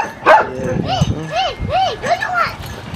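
A Cane Corso barking and whimpering, a loud bark followed by several rising and falling whiny whimpers, close by, with someone talking over it.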